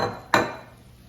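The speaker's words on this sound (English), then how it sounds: "we're just gonna stir this around till it starts to look like gravy" A single clink of a utensil against a pan while flour is stirred into gravy for Southern fried chicken, then a soft fading scrape, heard alone.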